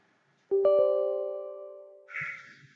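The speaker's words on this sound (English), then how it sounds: "That is the sound of user account control." The Windows User Account Control prompt chime plays on its own: a bright, bell-like chord that rings and fades slowly over about a second and a half, followed by a faint soft shuffle.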